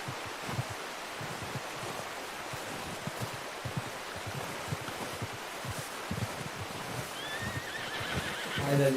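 Horse whinnying and hoof clip-clop from Red Dead Redemption 2, a steady run of hoof thuds across the clip with a louder neigh breaking out near the end, over outdoor ambience of rustling and flowing water.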